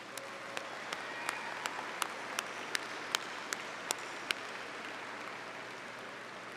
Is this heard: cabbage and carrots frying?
no